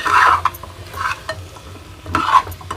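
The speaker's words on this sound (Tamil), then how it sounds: "3 கரண்டி தூள் போட்டிருக்கேன். கொஞ்சம் லேசாக வதங்கட்டும்." Homemade kuzhambu powder of chili, coriander, cumin, fennel and turmeric sautéing with drumsticks in a pan: close, loud scrapes of a spoon stirring in repeated strokes over a soft sizzle, with no talking.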